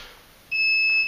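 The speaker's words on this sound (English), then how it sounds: "The little beep in between is to tell us that it's taken a shot and it's recycled and it's ready to take another shot" A camera flash emits a short, high, steady electronic beep signalling it has recycled and is ready for another shot during a studio lighting setup with an umbrella, clear and close, lasting about half a second in quiet.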